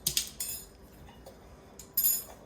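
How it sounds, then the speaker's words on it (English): A spoon stirring milk into sugar cookie dough in a bowl, a few quiet clinks and scrapes against the bowl in short bursts separated by near silence. "stir a little bit"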